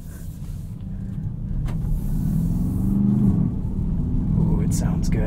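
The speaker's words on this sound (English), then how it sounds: "Let's go drive this Aston Martin DBX 707." A 2024 Aston Martin DBX 707 engine rumbles steadily while driving, a low, continuous drone heard from inside that swells slightly as it pulls.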